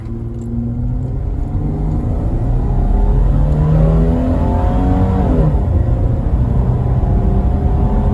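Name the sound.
Holden VY Commodore accelerating hard from a standing launch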